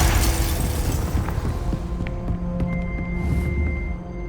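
A Confringo explosion spell in the video game Hogwarts Legacy, a heavy booming blast at the start that rumbles and fades out over a few seconds, with small debris crackles and ringing tones trailing after.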